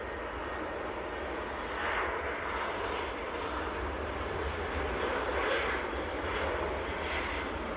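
A passenger airplane takes off at Manchester Airport in freezing, snowy conditions, its engines giving a steady, loud roar that swells slightly over several seconds with no talk.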